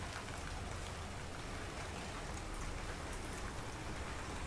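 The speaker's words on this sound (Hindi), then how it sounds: "बारिश हो गई है बहुत तेज" Heavy rain pours down in a dense, steady hiss, close and loud, unbroken throughout.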